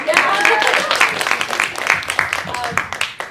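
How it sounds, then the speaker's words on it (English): Audience applause at the Toronto premiere panel for Shadowhunters season 3B, a busy spatter of clapping mixed with cheering voices, loud and fairly close, easing slightly as it goes on. "applause"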